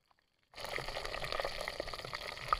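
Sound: chillies frying in oil at a campsite

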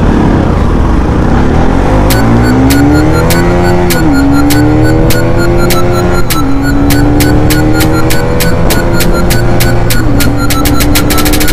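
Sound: motorcycles drag racing, Pulsar NS200 and Gixxer 150

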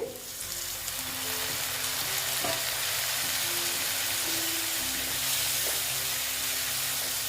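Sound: frying Kashmiri chili powder spices with water in a pan

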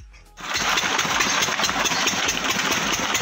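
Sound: farm water pump engine running

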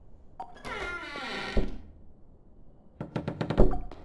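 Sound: tapping on a window in a horror video game

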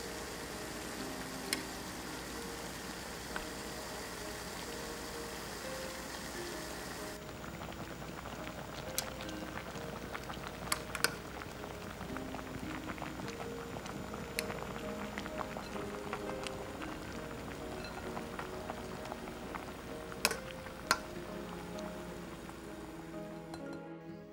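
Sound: water boiling in a pot

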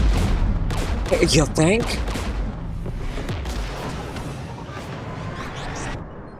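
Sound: gunfire from the video game Mass Effect 3

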